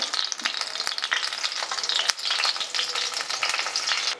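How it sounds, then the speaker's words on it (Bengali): Torn bay leaves and whole cumin seeds crackle and sizzle in hot mustard oil, a dense, steady frying hiss with scattered sharp pops and light utensil taps, heard up close with no talking. "এবার সর্ষের তেলের মধ্যে আমি 2টো তেজপাতা এইভাবে মাঝখান থেকে ছিঁড়ে দিয়ে দিলাম। দিয়ে দিচ্ছি গোটা জিরে"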